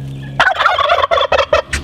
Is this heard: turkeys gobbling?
yes